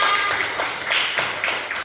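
A class claps in a short, close burst of hand claps in a classroom that cuts off abruptly near the end.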